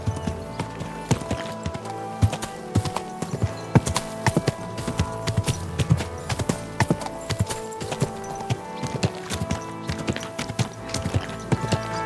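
Horse hooves clip-clop at a steady walking rhythm on a hard surface in the video game Kingdom Come Deliverance 2, dense and continuous with close, crisp strikes throughout.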